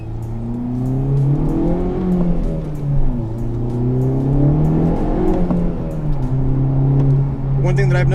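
A Honda Civic Type R engine drones steadily at close range, its pitch rising and falling with each gentle rev and lingering between throttle changes, with a brief sharper burst at the end.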